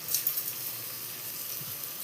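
Onions sautéing with salt in a pan for mushroom rice give a soft, steady hiss and light sizzle, faint and continuous with a couple of small stirring knocks and no voices.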